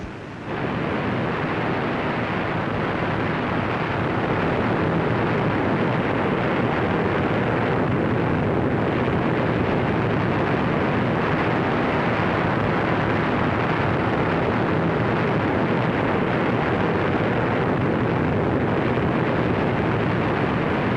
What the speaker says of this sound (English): awaiting you now at the top of this moving panorama is an eyeful and an earful of the famous Tower Falls